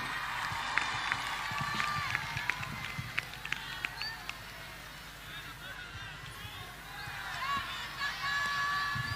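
Audience at a pengajian religious gathering clapping for a singer: dense, sustained applause that keeps going steadily throughout, with crowd noise mixed in.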